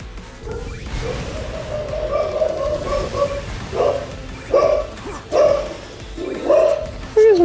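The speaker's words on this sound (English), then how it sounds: "Where's my dog barking at?" Pet dog barking indoors during a Sonic Forces gaming session, several short yips and barks spaced out over game sounds and background noise.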